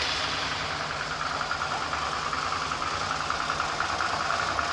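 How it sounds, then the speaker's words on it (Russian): A Suzuki V-Strom 650 motorcycle engine idles close by, a continuous low rumble with a constant hum that holds without pause throughout. "Запустим двигатель и посмотрим"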